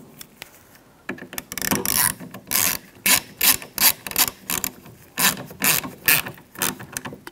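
A ratchet driving a screw into a rear camera panel on a 2011-2019 Ford Explorer: repeated close, crisp clicking strokes in a steady rhythm of short bursts, each pull a rasping run of pawl clicks, with no speech.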